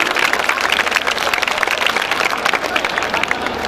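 An audience at a school silver jubilee celebration claps continuously, with dense, loud applause filling the hall and crowd voices mixed underneath.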